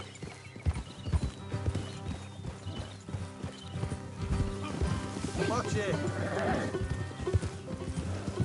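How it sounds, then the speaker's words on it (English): Horse hooves clip-clop steadily through a Red Dead Redemption 2 game scene, with a horse whinnying midway, while characters talk over the hoofbeats. "Will you get a hold of that horse?"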